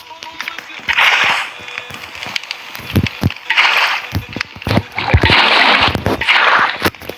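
Water splashing onto fire in a creative-mode house-building video game, bursts of bright splashy hiss recurring in several waves, loud and close, interleaved with sharp clicks and taps.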